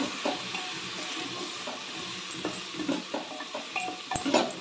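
Spices sizzling softly in a pan for dry khichdi while a spoon stirs and scrapes in short, irregular strokes, close and fairly quiet.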